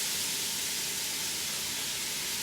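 Leeks sizzle in melted butter in a pan, giving a steady, close, even hiss with no talk over it.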